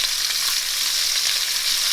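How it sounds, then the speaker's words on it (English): Garlic and lamb chops sizzle steadily in hot oil, a close, continuous bright crackle with no pauses and no voices. "Ooh, that garlic is starting to pop a little bit."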